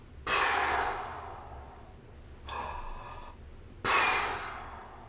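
Heavy breathing from a swimmer winded after open water swimming in deep water: three loud, breathy gasping exhales and inhales, close and alone, the first and last strongest, a quieter breath between them.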